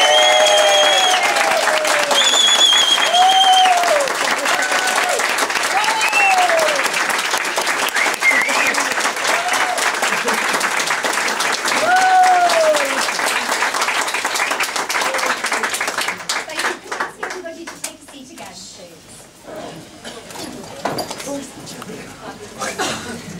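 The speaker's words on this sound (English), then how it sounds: "we should all give them a big round of applause" Applause from guests at a civil partnership ceremony rises right away and holds steady, with a few voices cheering over it, then thins out and fades over the last seconds.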